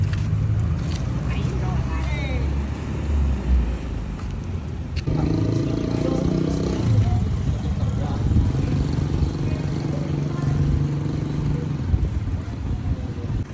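Motorcycle engines rumble and rev continuously in busy road traffic, with people talking over the steady noise.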